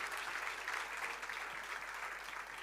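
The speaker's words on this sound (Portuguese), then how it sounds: "Vamos aplaudir ao Senhor." A church congregation applauds together at a Sunday service in Lisbon, a steady, dense wash of clapping from many hands that holds without pause from start to finish.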